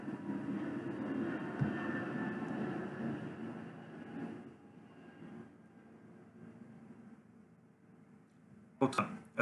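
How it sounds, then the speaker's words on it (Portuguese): An airplane passes overhead, a steady low roar that is loud at first, then fades to a lower hum, followed by a brief sharp noise at the end. "Vou esperar mais um avião passar."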